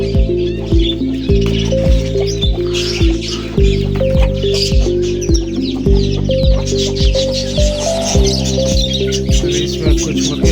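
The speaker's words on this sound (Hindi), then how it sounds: "ये सारी मुर्गियाँ हैं मेरी, इसके बच्चे भी हैं।" Hens and their chicks cluck and chirp in a backyard coop at feeding time. The calls are close and busy, repeated in quick overlapping bursts over a steady background tone.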